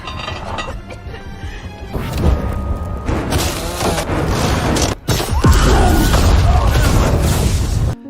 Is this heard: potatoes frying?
no